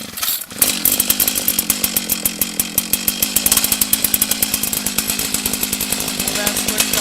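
Gas-powered ice auger with chipper blades starts after a pull and runs at a loud, rattling two-stroke idle that pulses rapidly and steadily, with a voice briefly at the start.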